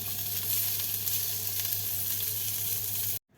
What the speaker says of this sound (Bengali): রসুন পেঁয়াজ শুকনো লঙ্কা হালকা তেলে এগুলিকে আমি ভেজে নেব